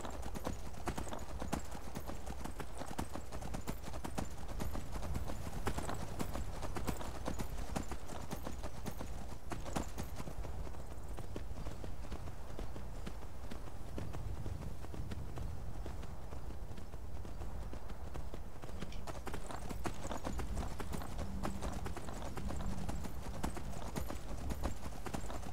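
Horse hooves galloping in Skyrim, a steady continuous clip-clop over a low rumble throughout, close and fairly loud, with no talk over it.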